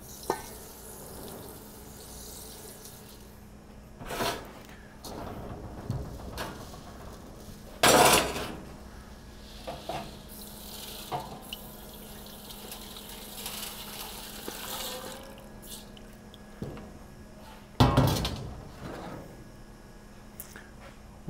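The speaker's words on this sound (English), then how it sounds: "I'm going to move the material back into the pan, and then we're going to wash the fraction that has fallen out or been decanted into our minus 200 screen" Soil sample material scraped into a pan and washed with water over a No. 200 sieve in a testing lab, with sharp metallic clanks and scrapes, intermittent splashing and trickling water, and quiet handling noises between.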